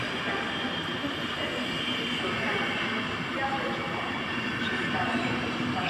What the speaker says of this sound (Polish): lokomotywa EU44001